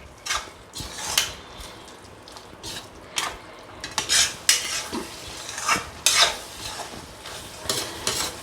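Old-fashioned home-style chilli chicken sizzles in a pan while being stirred, with repeated scraping strokes of a utensil against the metal rising over a steady frying hiss.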